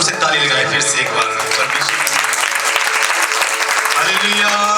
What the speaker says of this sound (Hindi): अभी आप जोर से ताली लगाए फिर से एक बार